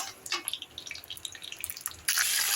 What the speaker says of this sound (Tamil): இப்போது புளி தண்ணி நான் ஊற்றிட்டேன்.